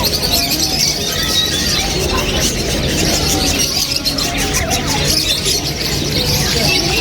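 Parakeets and other caged birds at a Doha bird market chirp and tweet in a busy, continuous chorus, loud and close, with shrill high calls over a crowded market background.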